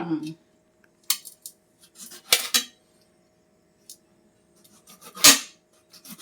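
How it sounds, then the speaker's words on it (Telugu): Knife strokes cutting tomatoes on a board, a few scattered clicks and scrapes spread over several seconds, close and moderately loud, with a low steady hum underneath. "అంతలోపల టమాటాలు అవి కట్ చేసుకుందామా?"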